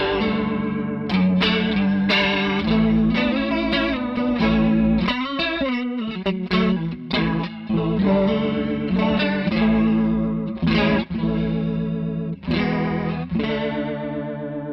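Electric guitar through a Walrus Audio Julia chorus pedal set to a high rate, loud sustained chords and notes with a fast warbling pitch wobble and slight grit, playing alone.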